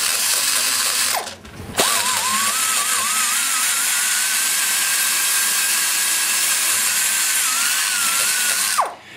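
A rotary grinder works fillet out of a port near the apex corner of a 1989 350 TBI cylinder head, giving a high steady whine that spins up after a short pause, holds for several seconds, then winds down.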